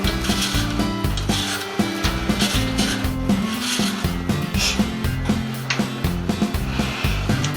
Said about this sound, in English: peeling all these whole bag of apples